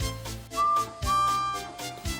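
Steam engine whistle blows in a children's railway story, sounding two sustained tonal blasts alone against a chugging rhythm.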